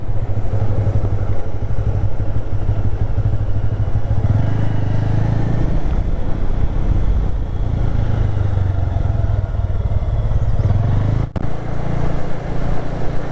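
Motorcycle rides a rough mountain road in the Nathang Valley toward Rongpo on the Silk Route, its engine droning loud and close with rattling clatter and shifting revs throughout.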